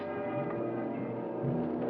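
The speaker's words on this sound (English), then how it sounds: "the church bells toll to keep away the spirits of evil" Church bells tolling through the night, a dense, continuous wash of ringing overtones that holds at a steady, fairly loud level without clear pauses.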